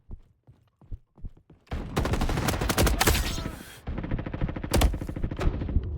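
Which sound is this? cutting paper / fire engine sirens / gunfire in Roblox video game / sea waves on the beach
gunfire in Roblox video game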